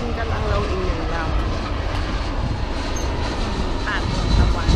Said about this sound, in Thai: เครื่องบินกำลังลงอีกหนึ่งลำ